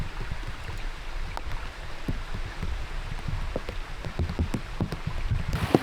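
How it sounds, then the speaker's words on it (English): Rain falling in a wooded glen in Scotland, scattered drops pattering on nearby surfaces over a soft wet hiss, fairly quiet and continuous, with no voices. "despite the rain hurrying us back"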